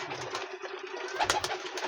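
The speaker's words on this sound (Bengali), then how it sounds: "এই দেখুন পায়রা, দেখুন সবগুলো কিন্তু ডিম আছে" Pigeons in a breeding room give soft, low cooing, faint and close, with a few brief rustles and knocks.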